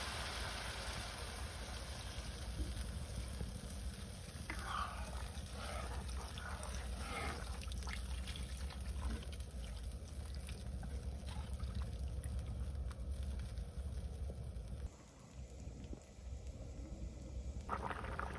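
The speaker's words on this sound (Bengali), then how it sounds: "এখন তরকারি অনুযায়ী জল দিয়ে দিব" Water poured into potato curry in a village kitchen, a faint steady trickling wash over low background noise, no speech.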